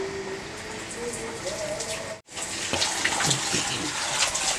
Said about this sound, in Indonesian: itu nanti saya siram dulu terus disikat semua